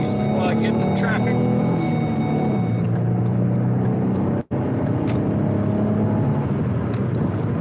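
Steady engine drone inside a car moving through traffic, its pitch sliding lower as the car slows, with a brief dropout partway and someone talking throughout.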